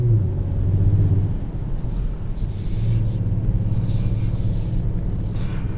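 Twin-turbo V6 of a 2020 Kia Stinger GT2 hums as a steady low rumble from inside the cabin, swelling slightly and easing off, with no talking.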